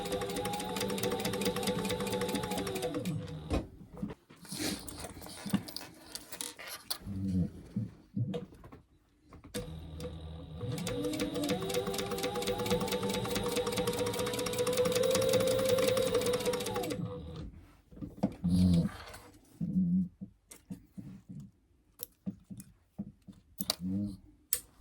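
A sewing machine back stitches the seams of a zip clutch wallet, running in two long continuous whirring bursts with a pause between, broken by shorter clicks and handling noises before and after.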